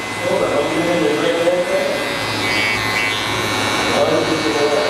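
Electric hair clippers with a 1.5 guard buzz steadily while cutting a burst fade, a close, continuous whirring drone beneath a voice explaining as he works.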